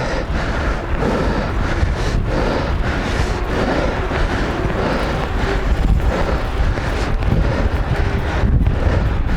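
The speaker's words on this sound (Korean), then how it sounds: "바람 바뀌기 전에 최대한 빨리 멀리 가 있어야 돼" Strong wind buffets the microphone while cycling along the Han River on a very gusty day, a constant loud roaring rumble with fluctuating gusts and no talking.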